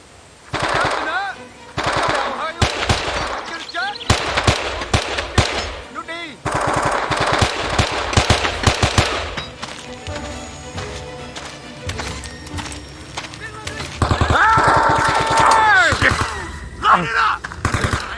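Bursts of machine-gun covering fire from the WWII shooter Men of Valor, loud and near, rattling in rapid volleys with single shots and battle noise, under occasional shouted voices.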